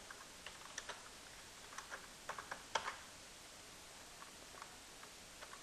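Quiet, irregular keystrokes on a computer keyboard, a sparse run of light clicks in a still room with a faint background hiss.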